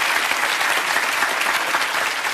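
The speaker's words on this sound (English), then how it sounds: "Give him a big round of applause, Sue and Alistair." Studio audience applause on the game show Millionaire Hot Seat, a steady, dense wash of clapping that holds at full level for the whole stretch with no talk over it.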